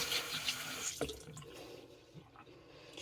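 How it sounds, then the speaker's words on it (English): A contact lens case is rinsed under a sink tap, with water running and splashing close by for a few seconds and then thinning to trickles and drips. "I always dump out the liquid from here and rinse it out"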